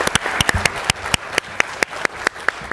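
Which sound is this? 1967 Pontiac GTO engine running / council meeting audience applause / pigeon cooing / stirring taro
council meeting audience applause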